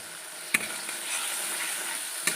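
Spice masala sautéing in a pan gives a steady, even sizzle throughout, with two brief sharp clacks of a utensil against the pan, and no voices.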